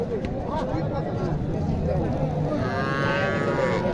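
A cow moos once near the end at a crowded Naogaon cattle market where Sahiwal cows and calves are sold. The call rises over thick background babble and murmur.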